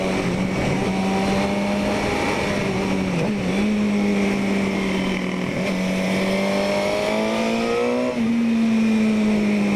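A Suzuki GSX-R 750 K6 sport motorcycle rides through a run of corners on a smooth road, its engine droning loud and steady, the pitch dipping and climbing as the rider rolls off and back on the throttle.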